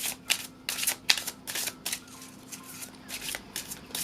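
A deck of oracle cards is shuffled by hand, a close run of riffling bursts and soft slaps repeating in an uneven rhythm, with no voice over it.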